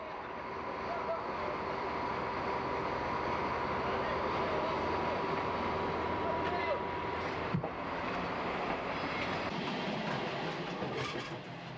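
Trains rolling out of a station on the Cévenol mountain line in France, a steady close rumble of wheels and carriages with a faint clickety-clack running throughout, plus a brief sharp clank partway through.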